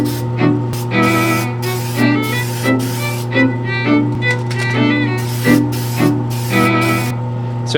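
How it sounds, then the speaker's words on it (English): Krylon Matte Finish clear coat sprayed from an aerosol can onto a model BC Rail C40-8M locomotive: a series of short hissing bursts in quick succession, close and fairly loud, each spray lasting under a second. "So this gives it a nice clear coat, and what I use here is just Krylon Matte Finish."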